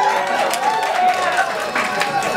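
A comedy club audience breaks into steady, dense applause and cheering for nurses, a continuous crowd roar lasting throughout, with some voices mixed in.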